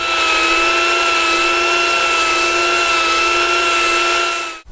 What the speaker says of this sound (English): I'm now going to finish off the shaping using a mini grinder with a sanding disc